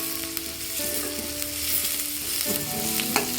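Onions sauté in a pan for vada curry, a close, continuous crackling sizzle with a few stirring clinks and scrapes, no voices.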